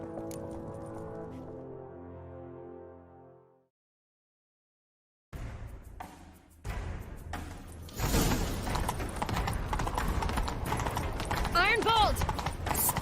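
Galloping horse hooves from The Witcher 3: Wild Hunt, a steady loud run of clip-clop beats that builds in the second half under game music and ambient noise, following a stretch of sustained tones and brief silence.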